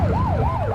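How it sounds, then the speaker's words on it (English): A police car siren wails in the video game The Precinct, a loud, close rising-and-falling tone cycling rapidly over engine rumble. "Get behind them and flip the siren and make them pull over."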